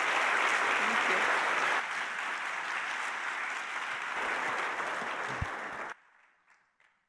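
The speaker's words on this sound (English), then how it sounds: "Give her a warm round of applause" Audience applause at a computer science education conference fills a large hall, loud and dense at first, then thinning and ending abruptly, leaving only faint scattered claps and a little room noise.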